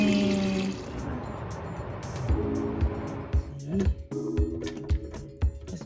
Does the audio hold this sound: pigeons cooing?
no